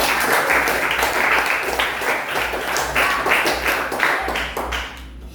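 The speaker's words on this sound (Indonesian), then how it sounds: "Sampaikan tepuk tangan untuk saya" A classroom full of students claps in applause during a Catholic religious education lesson, a steady dense patter of many hands filling the room and fading out near the end.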